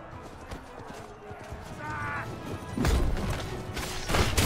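Horse hooves clip-clopping in the medieval battle game Conqueror's Blade, a rough galloping beat amid the clatter and crashes of combat, with louder impacts building toward the end.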